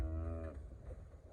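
A cow in a calf shelter on a snowy, cold morning lets out one loud, close moo that fades into breathy rumbling.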